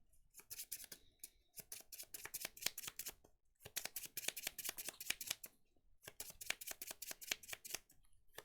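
Pokémon trading cards being shuffled by hand in three quick bursts of crisp riffling flicks, separated by brief pauses, close and fairly quiet with no voices.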